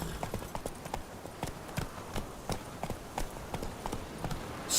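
Roach, a horse in The Witcher 3, trots along with evenly spaced hoof clops, fairly near and moderately loud, over a soft outdoor background with no talking.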